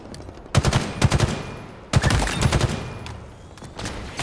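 Bursts of automatic machine gun fire in the video game Halo Infinite, several rapid volleys separated by short pauses, loud and sharp against a quieter game background with no speech.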